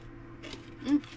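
Crunchy cheesy baked snacks bitten and chewed up close, a few short crisp crunches in a quiet room.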